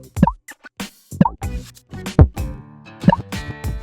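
Synthesized clacks from a Tower Stacker block-stacking video game, a string of short sharp percussive hits at irregular intervals, some spaced and some clustered, each with a quick decay and no voices present.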